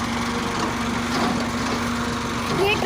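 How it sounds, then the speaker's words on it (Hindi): A tractor engine runs steadily while being driven, a constant droning hum with a fixed low tone, close and fairly loud throughout. "ये मेरा भाई ट्रैक्टर चला रहा है"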